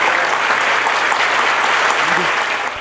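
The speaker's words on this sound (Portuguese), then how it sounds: "Henrique Ricardo Lewandowski, foi recebido com aplausos para compor a mesa de honra." Audience applause at a formal ceremony in Brazil welcomes a minister of the National Council of Justice to the head table, a steady sustained clapping from a crowd that continues throughout and tapers slightly at the end.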